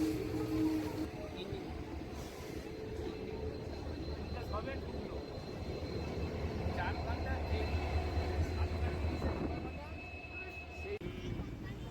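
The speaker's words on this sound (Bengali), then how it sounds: "সেই ট্রেন এখন অবশেষে পুরীতে ঢুকলো।" A passenger train pulling into Puri station, a broad continuous rumble of rolling wheels and engine noise with steady mechanical drone, fairly close, while people talk over it throughout.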